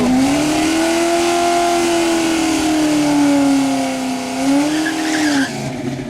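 A Pontiac GTO makes a drag racing pass, its engine loud and close, revving hard as the pitch climbs and holds through the gears before easing off near the end.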